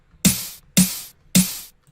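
A synthesized snare with diode distortion and an LFO: three sharp, noisy, evenly spaced hits, each with a short hissing tail, loud and alone.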